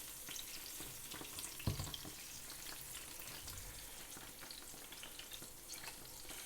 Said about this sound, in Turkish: yağımı kızdırıp kızgın yağa atarsak daha güzel oluyor